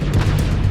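Deep booming cannon blasts from the Decepticon warp cannon in the video game Transformers: Fall of Cybertron, a continuous heavy low rumble with several loud thuds in under a second, no voices.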